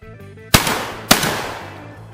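A CZ 712 semi-automatic shotgun loaded with reloaded shells fires twice at two clay targets: two loud, sharp blasts about half a second apart, each followed by a decaying echo, with no talking.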